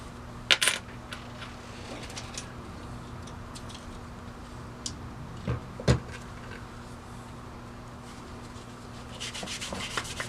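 A quarter goes into a Northwestern 60 coin mechanism: a few brief, sharp metallic clinks and drops against a steady low rubbing and hum, close up, with no talk.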